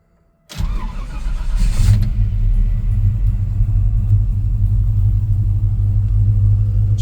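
A 1972 Chevrolet C10 Big Window pickup truck engine turns over and settles into a steady, loud, close rumble that continues throughout, with no talk.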